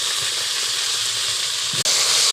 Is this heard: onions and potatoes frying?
yes